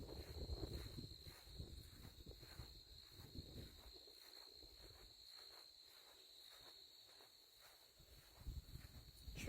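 A steady, high-pitched chirping of crickets rings throughout, quiet and constant, with soft rustling and faint steps underneath.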